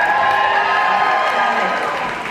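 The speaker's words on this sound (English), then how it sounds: "can y'all cheer?" A school audience at a Dancing with the Stars event cheering loudly, a dense sustained crowd roar with shouts and yelling throughout.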